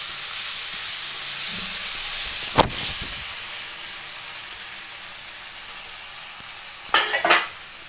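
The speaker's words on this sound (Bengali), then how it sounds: "এটা আমি এখন একটু নাড়াচাড়া করব, একটু নাড়াচাড়া করব।" Soaked rice frying and being stirred in a pan for jeera rice: a steady close sizzle and hiss runs throughout, broken by scraping stirs near three seconds and again around seven seconds.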